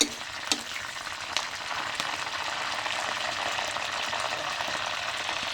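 Food frying in hot oil that crackles and splatters steadily, a dense continuous sizzle with a few sharp pops near the start, heard close and without talk.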